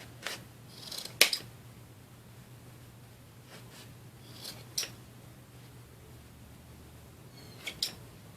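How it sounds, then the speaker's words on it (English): Scissors snip through yarn loops for an Easter bunny candy jar craft: a few sharp, close cuts with long quiet gaps between them, and no voices. "we're going to cut through our loops that were around our fingers"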